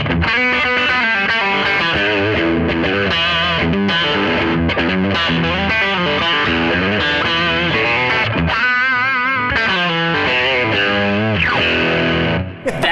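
An electric guitar runs through an overdrive pedal, with thick, sustained distorted chords and lead notes ringing loud and continuous from start to finish.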